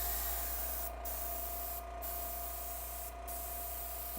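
An airbrush sprays a coat of paint onto an HO scale restaurant model, a steady, loud, close hiss that runs continuously with a few brief dips in pressure.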